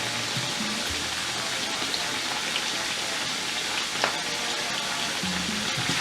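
Cloves and spices fry in a pan of Ghanaian black pepper sauce, giving a steady, dense sizzle that runs unbroken throughout with faint kitchen knocks.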